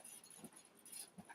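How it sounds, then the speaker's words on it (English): A dog indoors gives a few faint, short whimpers and soft whines, quiet and close, in a brief moment between conversation. "Excuse me, that was my dog."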